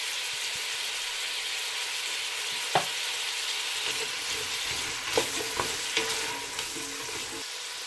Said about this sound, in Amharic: ነጭ ሽንኩርቱን አሁን የጨመርኩት